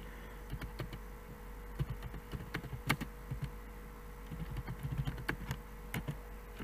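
Typing on a computer keyboard: a quick, irregular run of crisp key clicks, close and moderately loud, continuing steadily with a few harder taps and no speech.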